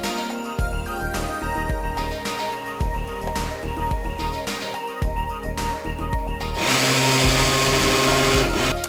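A blender mixes tomato sauce and cottage cheese, starting with choppy stirring knocks and stop-start motor bursts, then settling into a continuous loud whirring blend near the end.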